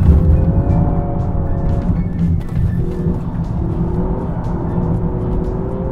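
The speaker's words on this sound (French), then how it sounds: "comment qu'on fait pour glisser avec une voiture qui veut pas glisser?" A car that resists sliding is pushed into a drift, its engine loud and close with shifting revving tones over a constant rumble throughout.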